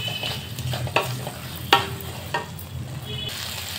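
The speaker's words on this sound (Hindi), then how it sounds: "चलिए तो हमने के आलू अच्छा से भुजा गए, मसाला भुजा गए बा।" Potatoes and spice masala frying in oil for Bihari aloo dum, with steady sizzling and a few sharp stirring scrapes and clinks against the pan, close and moderately loud without talk.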